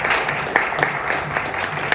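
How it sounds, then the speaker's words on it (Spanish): An audience at a poetry round-table event gives a brief, steady round of applause, dense overlapping clapping at moderate loudness lasting a couple of seconds. "Un aplauso para Alejandra Estrada."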